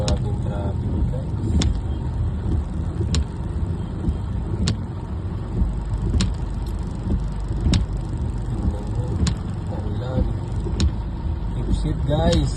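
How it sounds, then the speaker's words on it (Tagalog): Car traffic in a heavy jam on a busy road, with a steady low engine rumble and a few sharp clicks and taps breaking through; a person speaks now and then over the constant drone. "Grabing traffic guys."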